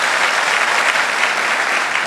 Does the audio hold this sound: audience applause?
yes